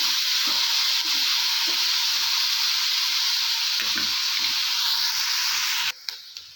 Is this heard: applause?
no